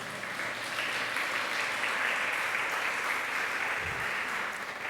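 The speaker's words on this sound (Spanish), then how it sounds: "dale un fuerte aplauso al Señor." An online church congregation gives the Lord a strong round of applause, with even, dense clapping at moderate volume that carries steadily for about five seconds.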